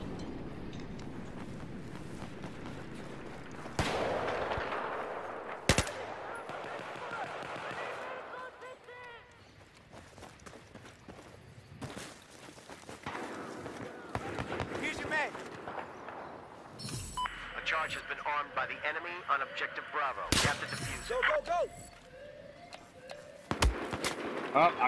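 Sniper fire and gunshots aimed at the player in a shooter video game: a few sharp, loud cracks spread out over a busy rumbling background, with a voice talking throughout.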